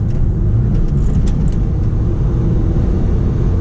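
Stage 2 1.8T VW Golf driving, heard from inside as a loud, steady low engine drone and road rumble with no revving peaks and no talking.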